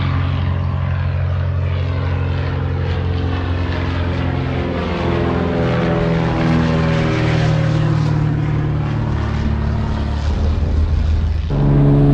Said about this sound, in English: But it was a beautiful day for a plane ride.